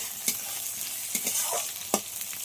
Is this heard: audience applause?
no